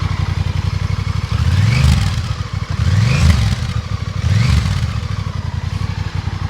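A Honda Rebel 1100 motorcycle engine idles with a rough clatter, then its exhaust revs up sharply three times in a regular rhythm, close and loud.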